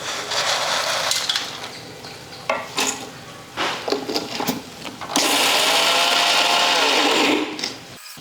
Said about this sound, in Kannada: ಈಗ ಅದೇ ಜಾರ್ನಾಗ ಇವು ಕಾಳು ಹಾಕ್ಕೊಂಡು ಸ್ವಲ್ಪ ಸ್ವಲ್ಪ ರುಬ್ಕೋತೀನಿ ರೀ